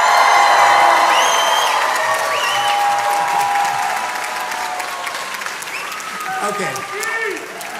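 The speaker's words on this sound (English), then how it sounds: "let me hear you cheer." Graduation audience at a high school ceremony cheering and applauding loudly, sustained clapping with whoops that gradually tapers, a voice speaking briefly near the end.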